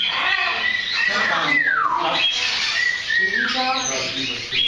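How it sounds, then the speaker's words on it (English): An African bird chirps and calls nearby, with rising and falling whistled sweeps and repeated tweets, loud and close, mixed with voice-like sounds in the background. "This is the African bird."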